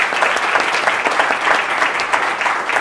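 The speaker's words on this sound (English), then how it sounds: "So I'd like to give them a round of applause as well." Sustained audience applause at a human rights event, dense and steady clapping from a crowd filling the room, loud and continuous throughout with no talk.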